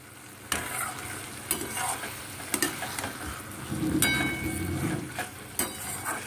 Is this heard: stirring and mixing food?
yes